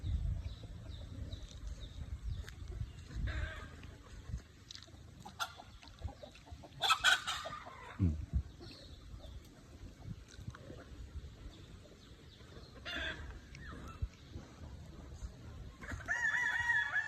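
Free-range hens and roosters on a rural farm cluck and crow repeatedly, with one clear rooster crow standing out among scattered clucks and soft background farm noise.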